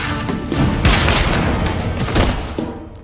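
A rapid burst of gunfire rings out in an action drama, loud overlapping shots and booms crowding together for about three seconds before fading, with no voices over them.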